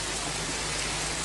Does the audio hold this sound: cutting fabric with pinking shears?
no